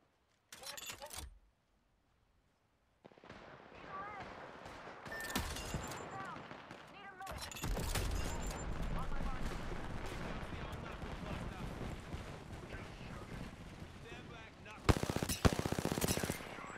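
Gunfire in the video game Apex Legends, with bursts of rapid shots and short sharp reports scattered across the clip, set among game sounds and a player talking.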